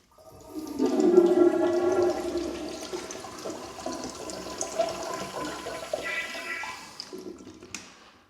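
A Zurn commercial toilet that flushes too long gives a strong rushing gush of water that swirls and gurgles before tapering off as the bowl refills.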